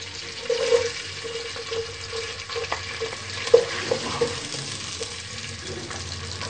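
Cumin and onion fry in a pot for aloo matar, giving a low, continuous sizzle broken by occasional light clinks of stirring.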